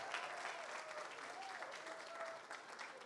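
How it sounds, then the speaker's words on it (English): Crowd clapping at a rally in New York City, steady applause with faint voices mixed in, heard from a distance and quiet. "I want to give everybody give another round of applause to Roberta Reardon"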